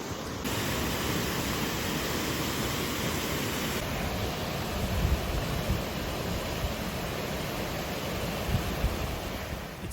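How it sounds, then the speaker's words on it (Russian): Waterfalls right beside a mountain road in Serra da Estrela, Portugal, roar as a dense, steady rush of falling water that stays loud and unbroken throughout, with no voices. "Здесь вот такие водопады."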